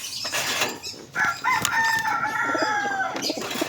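A rooster gives one drawn-out crow in the middle, close and loud, framed by short clucks and scratchy farmyard noise before and after.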